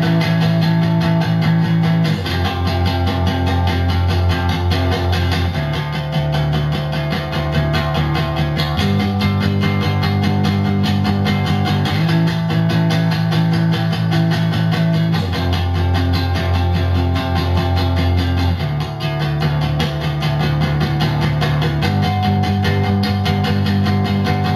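A dense, continuous distorted electric guitar plays the chorus of a song twice through, sustained power chords shifting every few seconds at a steady loud level, close and without any voices.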